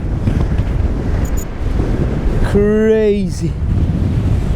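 Strong storm wind roars across the microphone on the Latvian coast with waves breaking below, a steady loud rush throughout, briefly overlaid by a short exclamation and a rising whine or tone mid-clip.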